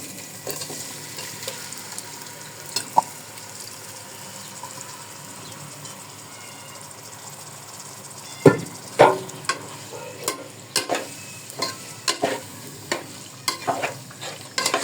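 Ingredients for bhuna khichuri are stirred and fried in a pan, with a steady soft sizzle beneath intermittent sharp scraping knocks of the spoon against the pot, close up.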